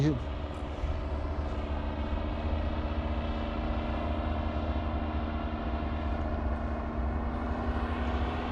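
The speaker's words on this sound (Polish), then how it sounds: "Piotrek, dodaj gazu i wleź wyżej." A paramotor engine drones steadily and loudly as it throttles up, its pitch edging slightly higher, with voices faintly underneath.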